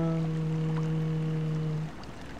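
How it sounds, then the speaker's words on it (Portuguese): Small boat propulsion in the underwater game Submerged, a steady engine hum with clear tonal harmonics that runs evenly for nearly two seconds before cutting out, leaving quiet ambience. "Acelera esse barquinho aí, vamos lá"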